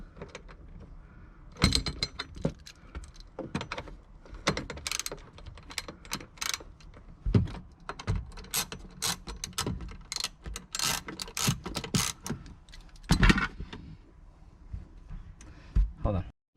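Ratchet with a 10mm socket working bolts on a BMW E46 M3, giving close metallic clicks and clatter in irregular bursts, with someone talking over part of it.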